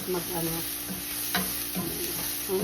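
Salted pepper fish cooking in a pan, with a steady low sizzle and occasional stirring scrapes, including one sharper clatter midway, fairly close and with no talking.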